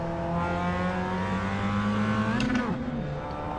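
A race car engine in the iRacing simulator drones steadily at high revs, its pitch holding then climbing briefly before dropping sharply as the car shifts or lifts, loud and close with no voices.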